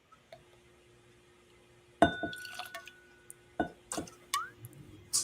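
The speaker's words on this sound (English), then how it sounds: "let me pour it real quick" Liquor is poured into a glass, with a sharp clink followed by short splashes and trickles in separate bursts, close up in a quiet room.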